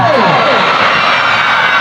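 A large crowd at a live band concert in Buenavista, Guimaras roars and screams in a loud, continuous wall of cheering, with shrill whoops rising above it.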